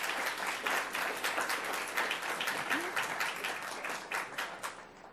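An audience applauds honored students at a Palm Beach County school program, brisk clapping that holds steady for several seconds before easing off at the end.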